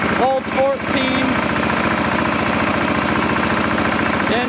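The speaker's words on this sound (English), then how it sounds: "Engine runs good" A repowered Sears SS14 garden tractor engine runs steadily at a loud, even idle with a fast regular pulse, carrying ignition and carburetor parts moved over from the old SS14; a faint piston slap may be present, and a voice speaks briefly near the start.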